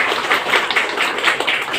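A group of children claps together in a quick, dense burst of applause, close by and fairly loud, with no talking over it.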